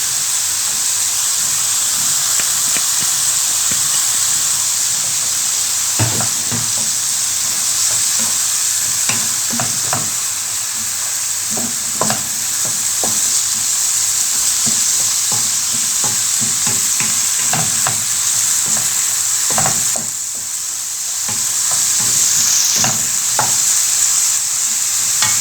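Onion frying in a pan with a steady bright sizzle and hiss throughout, punctuated by scattered stirring scrapes and clicks of a utensil, fairly close.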